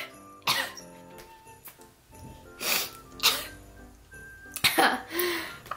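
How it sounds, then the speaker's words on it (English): Several sharp, close bursts of a person sneezing and coughing come in quick succession over a few seconds, with faint clinks and background music in a quiet room. "I literally had to sneeze as soon as I started"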